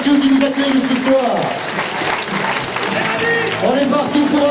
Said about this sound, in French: on les applaudit, ces bénévoles de Tétieux qui nous accueillent ce soir